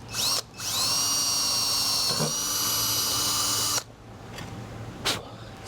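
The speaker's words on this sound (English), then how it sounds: "So now that I've got the pilot hole drilled" Close up, an electric drill whines at high speed while boring a pilot hole for the VIN on a 1966 Ford Bronco, with a short burst first, a few seconds of steady drilling, then quieter handling noise.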